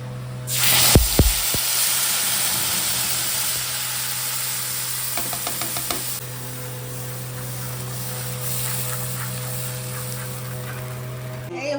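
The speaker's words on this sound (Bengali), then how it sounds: "তারপরে এই মশলাটা কষাবো এই যে মশলাটা এখন দিব" Spices and panch phoron frying in hot oil in a pan for Bengali cauliflower rosha, a loud steady sizzle running throughout with a few sharp clatters near the start.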